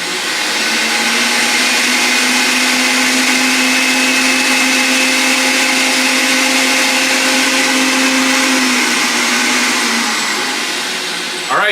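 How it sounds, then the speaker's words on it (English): A Housnat high-speed blender runs empty, a loud steady motor whine with a constant hum that continues unbroken for about eleven seconds before stopping abruptly at the end. "we're going to go ahead and sound check the Housnat high-speed machine as well as the pure juicer when it's running and there's nothing in it"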